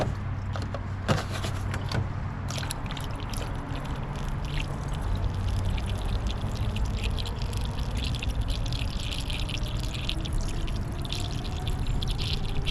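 Water is poured into the radiator of a Chevrolet Caprice with an LT1 engine, a steady splashing, trickling flow with a few drips and clinks, close by and alone.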